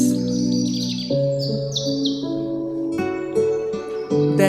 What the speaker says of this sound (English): when the birds are singing